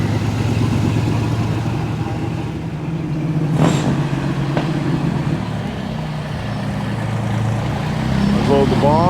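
A Corvette's engine rumbles steadily at an outdoor car cruise, mixed with crowd noise and nearby talking.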